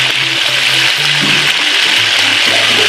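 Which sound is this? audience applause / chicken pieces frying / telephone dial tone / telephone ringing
chicken pieces frying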